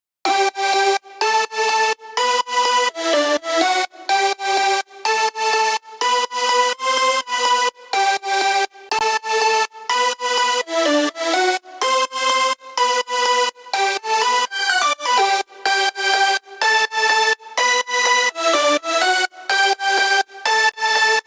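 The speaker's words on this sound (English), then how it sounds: "So now let's hear the leads. All together they sound like this." Several layered synth lead patches built in the Vital synthesizer play at once in a melody, bright and stacked, with short rhythmic plucky notes repeating steadily and loudly throughout.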